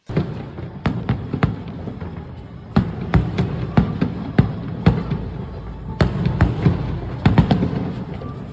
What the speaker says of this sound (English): And then there was also fireworks that night as well, the night of the festival.